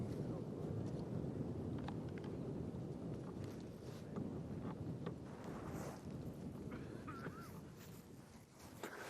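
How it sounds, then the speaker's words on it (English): Strong wind sweeping across the open African bush at sunset, a steady, broad rushing roar with microphone buffeting, continuous and fairly even throughout with no clear voices. "good strong wind"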